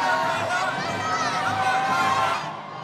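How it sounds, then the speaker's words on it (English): A crowd roars and cheers continuously at the Psicobloc Masters deep-water solo climbing competition, a dense, loud wall of voices and shouts held steady before easing off near the end. "the crowd is going crazy here"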